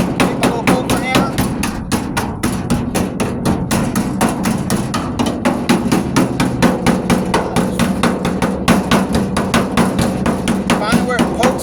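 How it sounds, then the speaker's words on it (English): Small Vulcan hammer tapping rapidly and steadily on the rusty passenger-side wheel arch of a 1998 Ford Ranger, a dense run of sharp metallic knocks throughout, close and loud. "Take my little Vulcan hammer."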